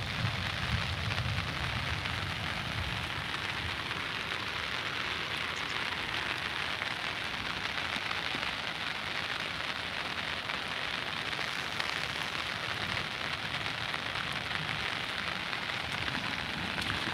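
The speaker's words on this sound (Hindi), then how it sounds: "मूसलाधार बारिश हुई है।" Heavy downpour falling steadily beside the Rind river, a dense, even hiss of rain on surfaces that holds unchanged throughout, with no voices.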